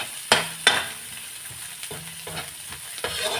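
Onion hits hot oil in a pan after the garlic has browned, giving sharp sizzling bursts followed by softer frying and stirring scrapes, up close with no talk.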